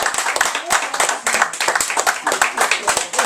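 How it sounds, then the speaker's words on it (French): An audience claps for the actors at the end of a French stage play, sharp individual handclaps in a quick uneven patter, fairly close, with voices mixed in. "monsieur, madame les acteurs, nous vous applaudissons."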